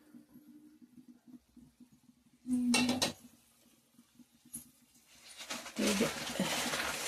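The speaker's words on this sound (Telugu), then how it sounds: "మూత పెట్టమ్మా ఇలాగా." A lid goes onto a cooking pot with a couple of sharp metallic clanks and a rattle, set against quiet household background sounds and soft talk.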